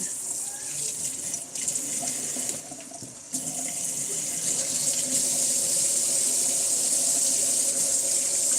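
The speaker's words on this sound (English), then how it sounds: "Get some water in it." Tap water runs steadily into a cooking pot in a kitchen while cabbage is being prepared, a loud continuous hissing gush with a brief dip partway through and no talking.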